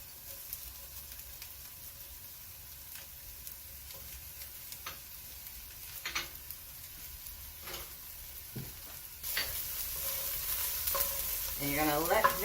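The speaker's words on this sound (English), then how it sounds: "you're going to let that go ahead and saute for no more than a minute" Four big cloves of minced garlic sautéing in a pan for a vegan Irish stew, a soft steady sizzle with scattered stirring scrapes, growing louder near the end as a voice begins.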